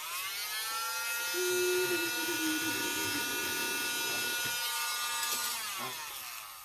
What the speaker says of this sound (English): This is the earwax machine. I'm going to suck up this little white part right there.